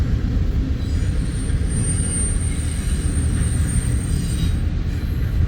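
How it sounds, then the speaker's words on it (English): Long freight train hauled by diesel locomotives rolling past near Fremont, Nebraska, with a steady, loud rumble of rail cars and a thin wheel squeal held high above it, continuous throughout with no talking. "We had 4 up front and 2 in the middle. 2 more locomotives."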